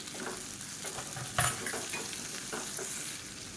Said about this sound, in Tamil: இந்த ஸ்டேஜில் மீடியம் சைஸாக 2 தக்காளி கட் பண்ணதை சேர்த்துக்கலாம்